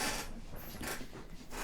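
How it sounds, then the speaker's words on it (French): Creaking and grinding from a seat as someone shifts on it, a close, continuous rub with a few sharper squeaks rising out of it. "est-ce que vous entendez tous les grincements de siège"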